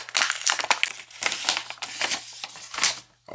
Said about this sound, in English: So it's gonna be just a plastic bag that it comes in.